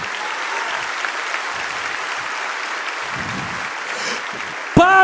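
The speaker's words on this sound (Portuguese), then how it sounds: "Se é para Jesus, você pode aplaudir" A church congregation at a youth conference claps for Jesus, giving dense, steady applause throughout at an even level, with a brief bright tone cutting in at the very end.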